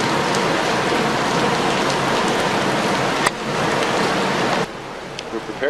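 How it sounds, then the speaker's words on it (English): Steady, heavy rain patters and hisses on surfaces close by, with a brief knock partway through before the downpour softens slightly near the end. "It's a rainy day."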